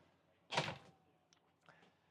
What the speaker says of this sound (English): and then close this door here.